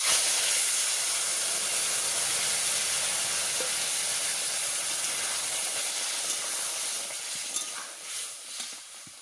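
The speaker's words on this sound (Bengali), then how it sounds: "তরকারি ঢেলে নিচ্ছি।" Curry poured into a hot pan with bay leaves, giving a loud, broad sizzling hiss that starts strong and slowly eases, with a few faint clinks near the end.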